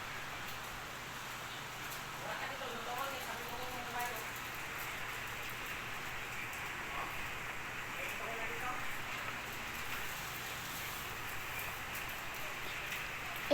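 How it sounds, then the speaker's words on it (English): Steady rain falls in the Melon Playground video game during a snowstorm scene, a constant even hiss with faint drops throughout, with no talk over it. "It's raining, so you have to stay inside."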